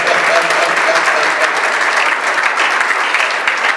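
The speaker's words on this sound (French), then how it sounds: "j'aimerais bien des acclamations pour moi quand même" A hall audience at a church conference talk breaks into loud, steady applause, a dense wash of many clapping hands that holds unbroken throughout with no single claps standing out.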